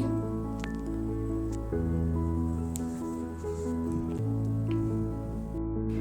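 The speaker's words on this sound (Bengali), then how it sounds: "ছোলা বুটগুলো সুন্দর করে আমি নেড়ে মিশিয়ে দিচ্ছি" Boiled chickpeas are stirred into khichuri cooking over a wood-fired stove, making soft wet squelches and squishes over a steady low background hum.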